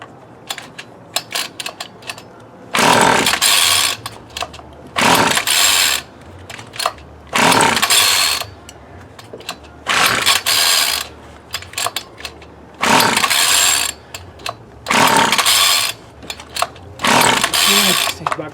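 A Homelite ST-285BC gas trimmer is pulled repeatedly, each loud ratcheting burst lasting about a second and separated by short pauses, without settling into a steady running note.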